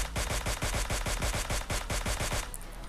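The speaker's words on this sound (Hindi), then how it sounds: "फायरिंग करके मैं उसको मार तो देता हूँ" Rapid automatic gunfire from PUBG Mobile Lite, a steady rattling burst of about twenty evenly spaced shots, loud and close, cutting off abruptly near the end.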